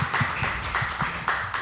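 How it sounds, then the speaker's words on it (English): A small group applauds a judge at a pageant press conference, a brief run of rhythmic clapping, fairly close and steady, with no talk. "I would like everyone to give a round of applause for David"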